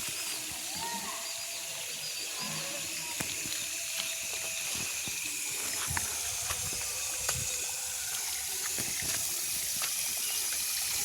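Steady hissing and trickling water runs continuously through drip irrigation for coconut trees, with faint scattered clicks and drips over a constant background hiss.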